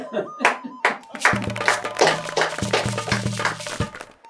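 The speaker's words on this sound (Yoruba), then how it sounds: "ẹ pàtẹ́wọ́." An audience on a Yoruba-language quiz show claps hands in bursts of sharp, rhythmic claps, later joined by a low tonal hum and voices underneath.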